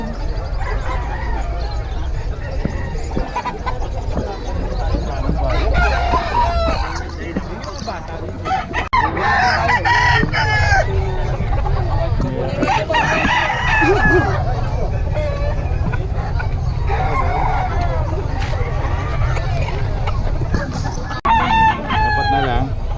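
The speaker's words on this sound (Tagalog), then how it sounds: "ito paubos na mga manok dito" Roosters crow repeatedly and chickens cluck at a busy poultry market, close and loud over a crowd's babble of voices and passing car noise, several crows rising through the clip.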